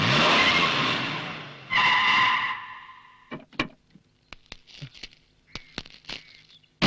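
A car engine roars and revs loudly for a couple of seconds, surges again, then fades as the vehicle pulls away, leaving sparse clicks and knocks in a quieter background.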